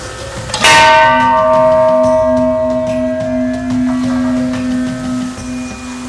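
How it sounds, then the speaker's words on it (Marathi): A large bell outside an old black-stone temple is struck once loudly and close, its deep tone ringing on and slowly decaying for several seconds. "मंदिराच्या बाहेर तुम्हाला एक छान अशी मोठी घंटा बघायला मिळेल"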